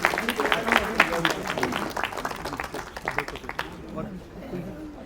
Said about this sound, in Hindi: तो बहुत जोरदार तालियां हमारे इन कलाकारों के लिए।